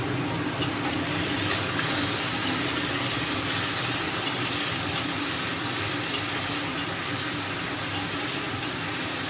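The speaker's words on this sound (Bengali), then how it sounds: "আলুটাকে লাল করে ভেজে নিতে হবে।" Potatoes frying in a wok with salt and turmeric give a steady, close sizzle with occasional sharp crackles and pops, and no talking.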